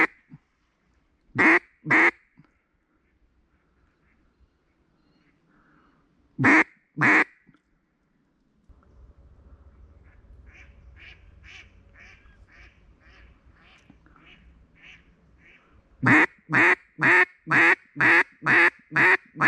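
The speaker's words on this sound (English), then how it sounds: "Those are teal." Teal ducks on public hunting land give sharp, loud quacks in quick bursts of two, then a rapid run of about seven calls near the end, with quieter chatter and rustling between.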